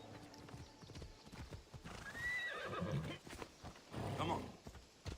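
A horse in Assassin's Creed Odyssey trots up with hooves clopping and gives a whinny, soft and fairly distant, with someone talking over part of it.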